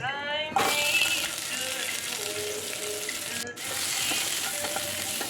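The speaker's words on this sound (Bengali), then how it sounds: "এবার আলুগুলিকে হালকা ভেজে নেব।" Potatoes frying lightly in a pan: a steady close sizzle with occasional stirring scrapes, briefly dipping partway through and then resuming at the same level.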